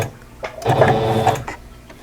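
A domestic sewing machine stitches a decorative stitch on a quilt block with white thread, a close, steady mechanical whir of rapid needle strokes that swells for about a second, with quieter clicks before and after.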